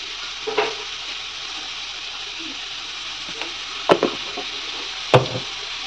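Cabbage fry being stirred in a pan, a soft steady sizzle with a few sharp scraping knocks of the spoon against the pan, quiet and close.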